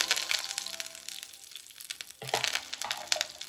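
Curry leaves crackle and sizzle in hot oil while potato masala for poori is being made; a bright spattering hiss fades, then bursts loudly again after about two seconds with sharp crackles, close and alone.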